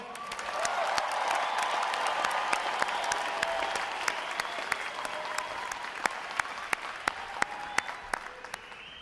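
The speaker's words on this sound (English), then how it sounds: "how about a round of applause for them?" Audience applause at a U.S. Navy boot camp graduation, a broad roar of many hands with light cheering that gradually thins into scattered, sharp individual claps standing out near and loud.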